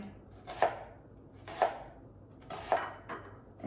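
A knife chops an onion on a cutting board with four crisp, evenly spaced thwacks about a second apart, each followed by a soft settling rustle. The chops are close and clear, with no talking.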